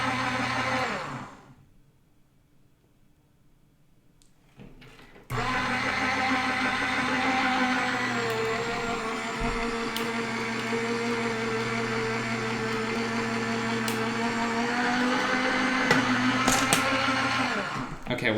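Steady electric motor whir as a cutting machine feeds a card through with an embossing folder and mat, running evenly for about thirteen seconds after a brief near-silent pause, with only faint clicks on top.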